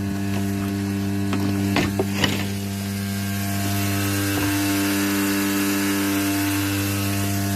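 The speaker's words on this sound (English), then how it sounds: "You can hear the water pump pumping away there as the washing machine fills itself." An electric water pump hums steadily with a constant tonal drone while a washing machine fills at a village house, with a few brief knocks and scrapes early on.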